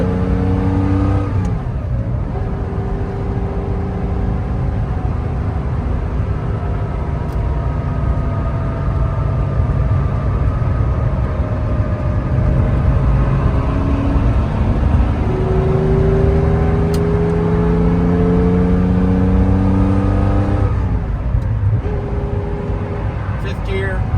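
A 1983 Porsche 911SC engine pulls steadily under acceleration while driving, its rising and falling engine tones sweeping through gear changes, loud and close throughout the cabin with road noise beneath.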